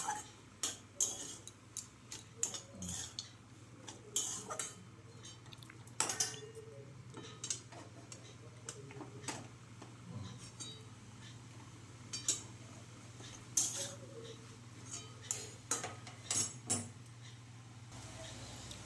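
Light metallic clinks and taps of a spoon against a pan, mixing fried red amaranth greens with coconut, irregular and fairly quiet, over a steady low hum with no talking.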